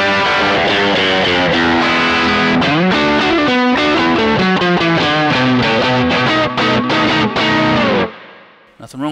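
An Eric Johnson Stratocaster electric guitar driven through the preamp of a Sonicake Sonic Bar multi-effects unit, giving a loud, dense, distorted tone. Fast riffing chords play continuously for about eight seconds, then cut off into a brief quiet tail.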